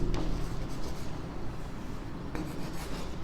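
A pen scratches across paper while someone works out a polynomial problem, a close, steady rasp of continuous strokes with brief pauses and sharper bursts near the start and toward the end.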